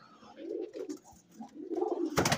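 Teddy Golden pigeons coo softly and steadily at close range in a loft in Lahore, a rolling low murmur that ends with a sudden burst of noise.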